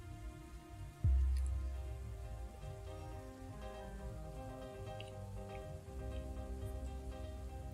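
Steady rain falling in the Dwarf Fortress video game, a continuous soft patter under a layer of game music that runs through the whole stretch.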